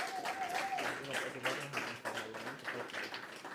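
Audience at a robotics camp exhibition gives a round of applause, faint scattered clapping heard from a distance, fairly steady for a few seconds.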